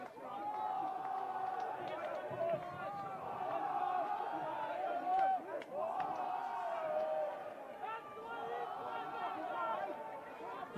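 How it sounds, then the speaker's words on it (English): Crowd noise from spectators at a 2019 basketball grand final between Canberra Royals and Queanbeyan, with a steady roar of voices and shouts. A commentator speaks over it for most of its length. "You hear the cries of the crowd."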